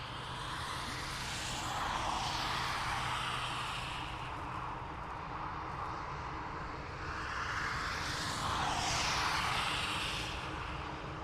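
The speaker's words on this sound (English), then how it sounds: "So, 787 Dreamliner heading off to Toronto." A seven-year-old Air Canada 787 Dreamliner taking off from Dublin Airport for Toronto: a broad, sustained jet engine roar that swells and fades in waves as the aircraft passes, heard from outside.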